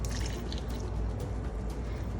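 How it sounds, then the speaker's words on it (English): Water, 250 ml, poured into 420 g of flour in a bowl for olive focaccia dough, a short close continuous trickling pour at low level with faint splashes. "To this I'm going to add all my water, which is 250 ml of water."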